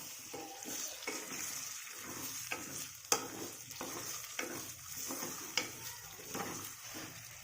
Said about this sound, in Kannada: ಇವಾಗ ಇದನ್ನು ಮಿಕ್ಸ್ ಮಾಡಿಕೊಳ್ಳೋಣ.